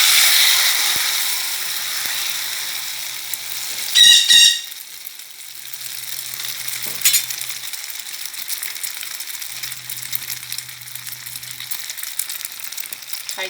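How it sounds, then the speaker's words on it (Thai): Eggs frying in hot vegetable oil over high heat for a Thai omelette, with a steady loud crackling sizzle throughout, a few clattering clicks partway, and a low hum in the background. "พอน้ำมันร้อนแล้วใส่ไข่ลงไปเลย"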